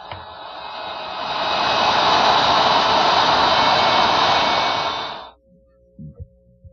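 A router fitted with a 1/4 inch round nose bit plows a slot in wood for a butterfly table: a loud, high whining roar spools up, holds for several seconds, then winds down, followed by a few faint knocks.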